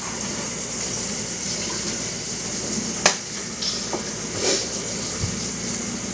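Tap water runs in a steady, hissing stream over a pre-cooked pork chop being rinsed in a kitchen, with a few brief splashes and knocks close by.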